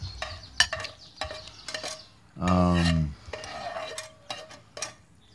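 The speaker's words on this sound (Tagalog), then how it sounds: "Gisa na nimo ang pork na sa pan" Pork sautés in a frying pan or wok with a soft sizzle under repeated utensil clinks and scrapes, and a louder burst of sizzling in the middle.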